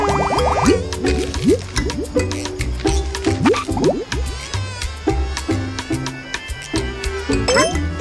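A Glubbit blowing big golden bubbles in the video game Yoshi and the Mysterious Book: rapid bubbly pops and rising blooping chirps tumble over a bouncy game melody, steady and fairly loud throughout.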